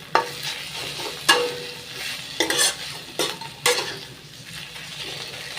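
Malabar spinach greens being stir-fried: a gentle sizzle under about five rhythmic spatula scrapes and stirs against the pan, close and fairly quiet.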